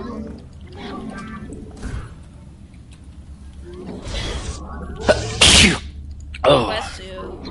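Someone sneezes sharply in a couple of bursts amid quiet indoor sounds and brief talk, the sneezes standing out loud and close.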